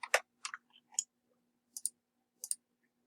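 Dice roll during a tabletop game, with several short, crisp clattering clicks in quick bursts against a quiet room.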